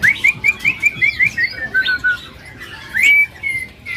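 A female white-rumped shama (murai) sings nearby, a clear series of rapid rising whistled chirps followed by a longer sweeping whistle, loud and close with no talking.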